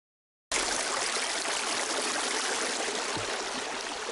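Water from a river stream in Karijini rushes and trickles steadily after a brief silence at the start. The flow is dense and continuous and stays at an even level.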